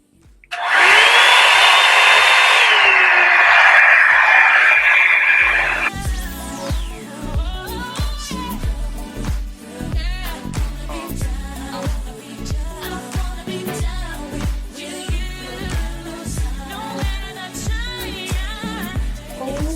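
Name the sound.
Revlon One-Step hair dryer blow drying natural hair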